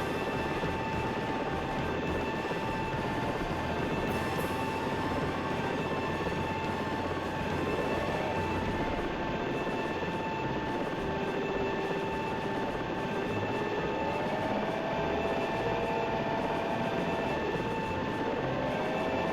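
A video game helicopter flying away: a steady drone with a whining rotor hum holds throughout, continuous and moderately loud with no talking.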